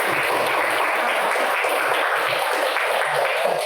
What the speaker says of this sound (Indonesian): kasih tepuk tangan buat semuanya